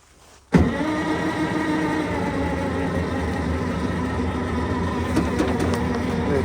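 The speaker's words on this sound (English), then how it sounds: "Just gonna cycle the engine a bit without it letting it turn on." An old loader's engine cycles with the key on in a cold shop, a steady mid-pitched mechanical drone and whir that starts abruptly and runs continuously at constant loudness, close by, with no talk.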